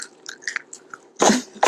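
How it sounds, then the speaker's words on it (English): Someone chews frozen peas close up, a run of small crisp crunches building to a louder burst of biting. "She wants you to hear the sound of chewing of frozen peas."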